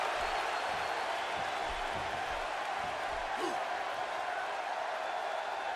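A WrestleMania arena crowd in Miami roars and stomps in a steady, dense wall of cheering that never lets up, with a few louder thumps and shouts standing out from the din.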